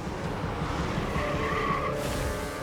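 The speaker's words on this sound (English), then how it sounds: "a woman plows her car through the window" A car skids as it plows through a bakery's front window in a 2004 crash, a continuous loud tire screech and rushing noise that ends in a brighter burst of impact.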